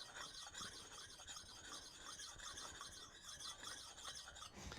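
A plate scrapes back and forth along the edge of a Kalthoff carving axe being sharpened, a steady close rasping rub with a faint squeal, continuous and quiet, no voices.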